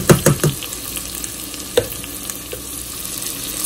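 Fried onion goes into a pan of sizzling moong dal. A few quick spoon scrapes and clicks open the clip, then a steady close hiss of frying continues with an occasional tap, and no talking.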